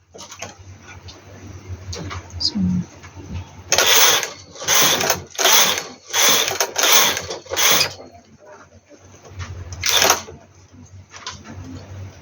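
A domestic knitting machine carriage knits rows for a baby romper: a run of rapid rasping, clattering sweeps back and forth, a pause, then one more sweep, close and fairly loud with quiet mechanical ticks between.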